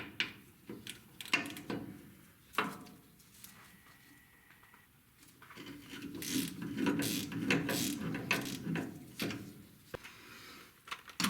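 Ratchet wrench clicking as it removes the front fender bolts on a VW Bay Window Bus, heard in short bursts of light mechanical ticking with brief pauses, mixed with handling clatter of tools and parts.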